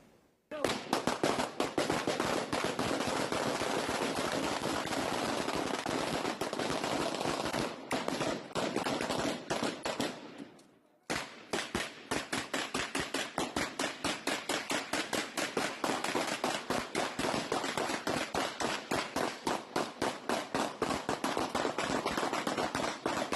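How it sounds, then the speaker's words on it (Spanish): A long, rapid barrage of sharp gunshots fired at a house, loud and close, firing in dense bursts with a brief pause midway before resuming just as heavily, about 30 seconds in all. "escuchar el ambiente, que son cerca de 30 segundos de una cantidad indeterminada de disparos"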